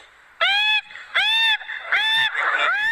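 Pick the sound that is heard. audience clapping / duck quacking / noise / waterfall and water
duck quacking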